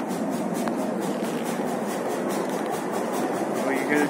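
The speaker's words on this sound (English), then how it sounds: "Do you like the train?" A train rolls along with a steady, noisy rumble and faint rhythmic clatter heard from on board, with a brief higher tone near the end.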